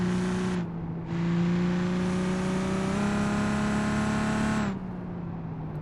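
A car's engine in BeamNG.Drive holds a loud, sustained high-rev drone at top speed, its harmonics creeping slowly upward, with a brief drop near the start before the steady roar returns and then eases off at the end.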